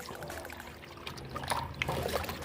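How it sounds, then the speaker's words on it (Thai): Rice-washing water is mixed with about 5–10 litres of plain water and stirred, giving a steady close trickle and pour of liquid with light splashing, with no talking. "เราจะนำมาผสมกับน้ำเปล่ากันเลยครับ"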